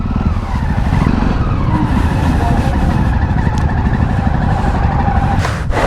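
Motorcycles rev and skid at a bikers' rally in Manipur, a loud continuous roar of engines and tyre scrubbing that holds steady throughout, with voices mixed into the din.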